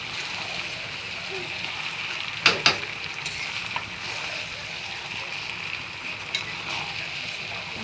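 Chicken pieces sautéing in a pan, with a soft steady sizzle broken by a couple of sharp clanks and scrapes from stirring.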